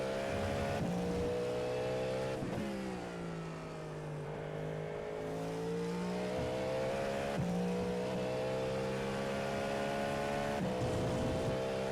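A race car engine in the iRacing sim drones steadily, with its pitch dipping and climbing through several downshifts and rev blips, loud and continuous with no talk.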